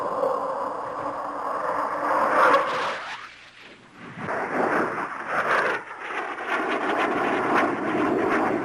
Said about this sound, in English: The A-4 is a highly aggressive attack airplane.